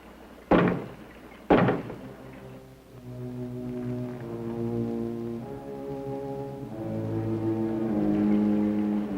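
Two sharp knocks on a door in a 1962 black-and-white horror film, loud and well separated, followed by a low, sustained eerie musical drone with no talking.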